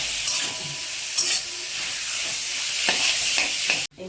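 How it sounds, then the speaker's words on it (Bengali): Chicken pieces stirred and fried in butter in a pan, a steady loud sizzle with scraping stir strokes throughout, then a sudden cut near the end. "বকলির পরে এসে গেল চিকেনটাকে একটু নেড়ে নেব বাটার দিয়ে"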